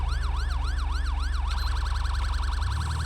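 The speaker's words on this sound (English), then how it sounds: "this is a Code 3 Vcon siren I'm using" A Code 3 Vcon police siren in the video game GTA V with the LSPDFR mod, loud and close, wailing in a steady rising and falling cycle and then switching to a faster yelp pattern over a low engine rumble.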